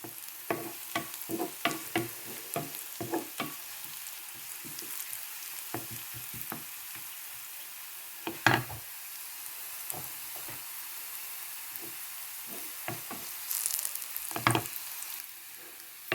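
Vegetables for a long bean and potato curry are sautéed in a pan until golden. A soft, low sizzle runs under frequent light stirring clicks and scrapes, with a louder burst of scraping near the middle.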